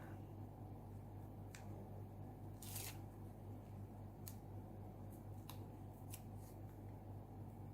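Scissors trimming the overhanging branch pieces of craft paper for a December Daily journal, with several crisp, quiet snips spaced irregularly over a low steady background hum.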